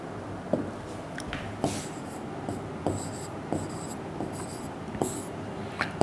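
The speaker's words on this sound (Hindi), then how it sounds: "चलिए फिर से लिख देता हूँ।" Marker or chalk strokes on a classroom board during a lecture: a steady series of short scratchy strokes and taps, close and clear, repeating at an irregular rhythm without anyone talking.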